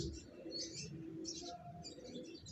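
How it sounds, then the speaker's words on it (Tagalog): Soft pigeon coos and light chirps sound quietly over faint ambient noise as rain begins in Umingan, Pangasinan, with rain hiss in the background. "Sugod sa ulan yung mga kalapate o."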